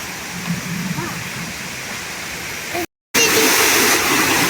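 Continuous rushing water from a flowing river, broadband and close, briefly cutting out before returning louder.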